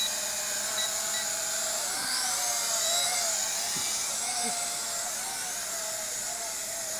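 An HR H9 learn-to-fly camera drone flies in a steady, continuous high-pitched whine that holds at an even loudness throughout, with brief faint lower tones passing underneath.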